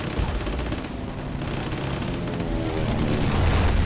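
Gunfire and explosions from a P-51 airstrike in a World War II style video game, a dense rumbling fusillade of blasts and shots running continuously and loud throughout, with no clear pauses.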